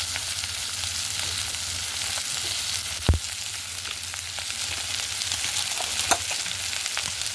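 Fish oil frying in a pan with a little ginger-garlic paste and turmeric added, a continuous close sizzle broken by a sharp clink of a utensil and soft stirring scrapes.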